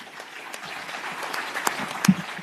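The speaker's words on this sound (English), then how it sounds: "Let's clap hands for Barret." Conference audience at an agricultural congress claps for a speaker, a short burst of scattered, moderately distant applause with no talking.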